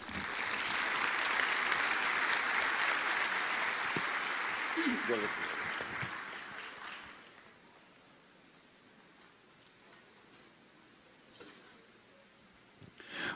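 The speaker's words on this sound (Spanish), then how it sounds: "a quien recibimos con un fuerte aplauso" Loud applause from a crowd welcoming a Bogotá city councilman to the stage fills the first six seconds, then fades away, leaving a quiet room with faint shuffling.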